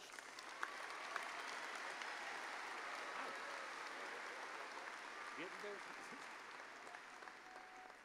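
Faint, distant applause from a commencement crowd honoring graduates at Angelo State University, a steady wash of scattered clapping filling a large hall.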